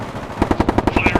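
Close automatic gunfire during a tactical ambush drill: a rapid run of about ten sharp, evenly spaced shots, loud and near, with no talk over it.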